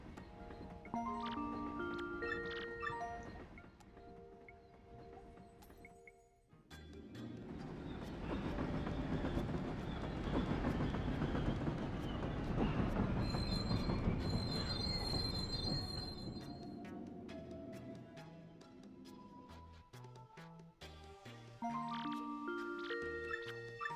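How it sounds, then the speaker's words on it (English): A train in Paper Mario: The Thousand-Year Door pulls into Riverside Station, with a long squeal of wheels and rumbling rail noise between stretches of chiming game music and a ding-dong bell. "See, the train is arriving at Riverside Station now."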